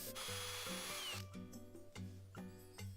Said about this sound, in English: we need to drill the hole with the Forstner bit